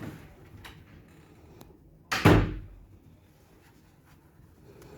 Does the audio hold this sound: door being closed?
yes